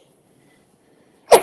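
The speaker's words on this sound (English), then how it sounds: "Oh, I'm going to sneeze." After near silence, a single sharp sneeze bursts out at the very end, close and loud.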